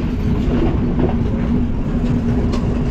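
A passenger train travels through elephant forest near Avukana station, its loud, steady rumble and wheel noise filling the space close by without letup.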